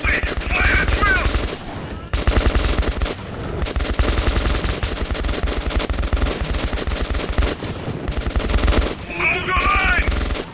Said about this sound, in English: Fire at will!